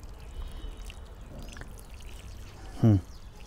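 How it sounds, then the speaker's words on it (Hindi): Light watering of soil for sowing coriander: a faint outdoor background holds one short, distinct splash of poured water near the end, close and brief. "बहुत हल्का हल्का पानी चारों तरफ आप चारों तरफ डाल के इसको गीला कर दें"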